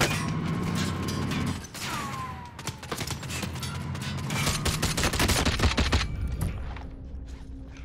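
Rapid bursts of FAMAS rifle fire in Call of Duty Warzone, loud and close, with mechanical clatter and a brief whine between volleys and a quieter tail at the end.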